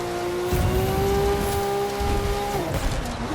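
An off-road racing video game car drones with a steady engine hum over a constant rough rumble of tyres and terrain, its pitch dropping and shifting near the end, continuous and fairly loud with no talk.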